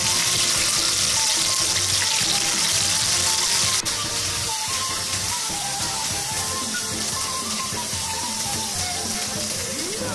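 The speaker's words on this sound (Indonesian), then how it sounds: "Sekarang aku akan goreng bawang putih, jahe, daun jeruk, dan bawang bombaynya terlebih dahulu." Garlic, ginger, lime leaves and onion sizzle steadily in hot oil in a pan, a loud, dense, continuous crackle with no break across the stretch.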